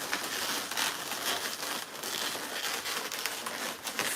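Latex balloons being twisted into an owl shape, a continuous close squeaky rubbing and crinkling that fills the whole stretch with brief surges, no talking over it.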